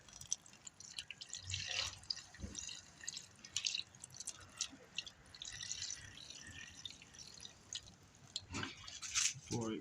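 Brake or clutch fluid trickles and drips while being poured into a fuel-injected Suzuki Bandit motorcycle, a steady close wet splashing with a few louder glugs, no talking.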